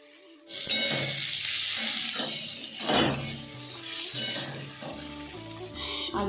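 Radish greens frying in a pan with dried chili and garlic, a steady close sizzle with stirring and clinks of a utensil, accompanied by background music.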